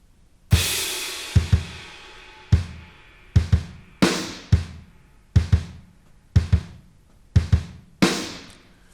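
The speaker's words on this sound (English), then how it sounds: "One of them are addictive drums, and it sounds like this." Addictive Drums software drum kit playing a sparse pattern of booming hits with crashes and ringing decays, about a dozen strikes in a slow, uneven rhythm, alone and clean.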